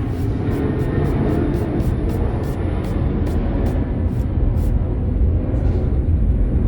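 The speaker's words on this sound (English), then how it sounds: "Sorry about the airplane." An airplane passes overhead outside a workshop during a speaker box build, a steady, loud, low rumbling roar that fills the whole stretch, with a faint high whine pulsing above it.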